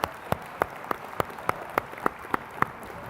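Slow, evenly spaced claps ring out at a conference opening welcoming first-time attendees, about ten sharp isolated hand claps over a quiet room rather than full crowd applause.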